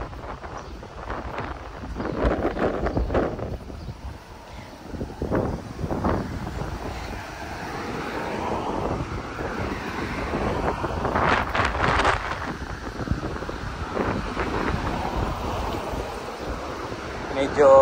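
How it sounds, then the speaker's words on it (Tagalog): Gusty wind buffeting the microphone in uneven rushes during an outdoor walk, loud and close, with faint background noise throughout. "Medyo malakas yung hangin"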